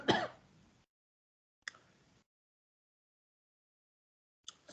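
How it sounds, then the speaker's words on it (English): After a salty lunch, a person near the microphone clears their throat and coughs in three separate short bursts, with silent gaps between them. "I just finished my lunch, so I am coughing a little"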